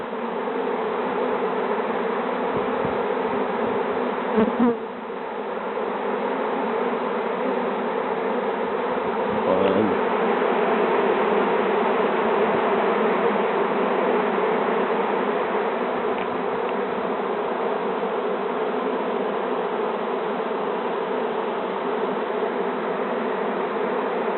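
A steady, dense buzzing drone of a honeybee swarm fills the air continuously, loud and close, with no voices.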